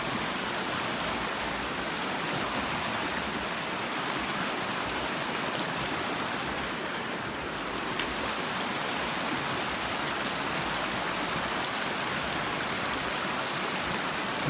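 Main channel of a creek rushing past a small island at Bonita Falls, a steady, full broadband wash of flowing water that stays close and constant throughout, with no voices.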